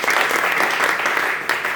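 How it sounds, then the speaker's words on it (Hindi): A gathered crowd bursts into hearty applause for a colleague, a brief dense patter of many hands clapping at once, steady and moderately loud. "एक बार दिलीप सर के लिए जोरदार ताली होनी चाहिए।"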